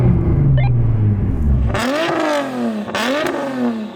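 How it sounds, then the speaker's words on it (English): A Nissan GT-R drag car idles with a deep, loud rumble, then its engine is revved hard twice up close, each rev climbing sharply in pitch before it drops back. "I'm going to rev up this beast of a machine."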